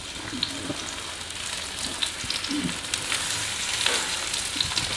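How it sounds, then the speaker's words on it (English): Pork chops sear in a pan with about 1.5 tablespoons of vegetable oil, giving a loud, close, steady sizzle with light crackles and occasional scraping. "We're going to throw the chops in. Just like that. Sear the shit out of them."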